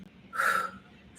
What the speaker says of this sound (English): Audible exhale as you lift for 8,